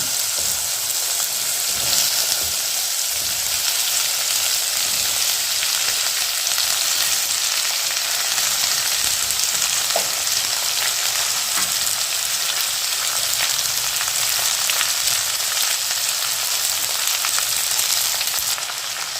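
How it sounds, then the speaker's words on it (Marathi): Cut okra frying in hot oil with mustard seeds and curry leaves in a pan, a loud, continuous close sizzle with occasional scraping stirs throughout, no voices. "भेंडी भाजून घेऊया"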